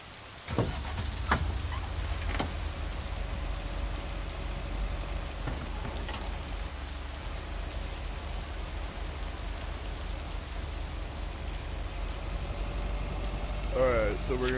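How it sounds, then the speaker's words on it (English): Steady rain falls in a video game, a constant wash of close downpour that lasts throughout, with a few sharp taps and a brief voice near the end. "You just out for a walk in the rain?"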